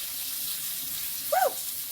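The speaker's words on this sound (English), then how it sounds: "Rinse with cold water." Cold tap water runs steadily into a kitchen sink while chopped pickle relish vegetables are rinsed, with a short, louder splashing burst near the end.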